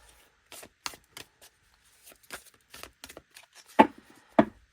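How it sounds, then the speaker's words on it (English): An oracle card deck is riffle shuffled, giving scattered soft taps and short dry riffling bursts close by, with two sharper card snaps near the end. "it does also give a really lovely, smooth and easy riffle shuffle"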